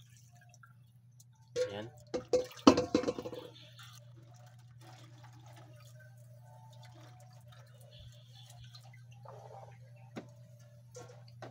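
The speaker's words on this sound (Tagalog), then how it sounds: "salain na natin itong ating gata" Coconut milk is strained for a vegetable dish, with a short burst of splashing and dripping early on that settles into faint, sparse drips over a low steady hum. A voice speaks one brief word.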